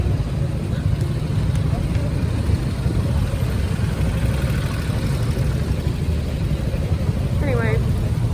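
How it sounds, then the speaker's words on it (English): A garbage truck engine rumbles steadily in city street traffic during lockdown in Greece, a constant low drone heard from inside a car, with a person talking over it. "And now I'm stuck behind a garbage truck."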